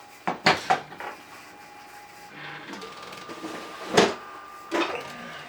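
A small Phillips pan-head screw dropped on the floor while assembling a scavenger drive gives a few light metallic clinks as it bounces, then a couple of further knocks over a faint steady hum.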